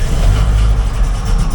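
A Willys engine revs hard on a cold first start with no choke, giving a loud, rough burst of low mechanical roar that holds steady throughout without pause.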